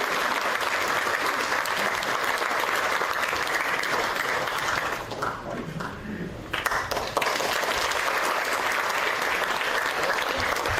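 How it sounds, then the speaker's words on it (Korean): A crowd at a panel discussion claps in loud, sustained applause to welcome a speaker, with a brief dip in the middle before the clapping surges again. "여러분 뜨거운 박수로 환영해 주십시오"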